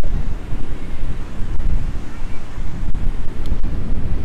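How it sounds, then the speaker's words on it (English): Waves and wind on Bijilo beach in The Gambia: loud, steady surf roar mixed with buffeting wind noise on the microphone, continuous and close, with no talking. "I am walking on the beach"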